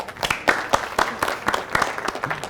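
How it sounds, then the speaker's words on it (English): Applause at a virtual business hall of fame awards event, with a short round of moderate clapping bursts that holds steady for a couple of seconds, close and fairly loud. "Let's give them all a round of applause for the generosity in the live chat."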